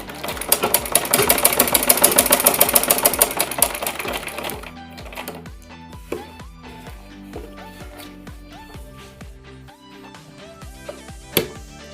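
A sewing machine stitches along the neck edge of a suit, running fast with a dense rapid stitching rhythm for about four seconds, then slowing to scattered single stitches and clicks as the fabric is guided.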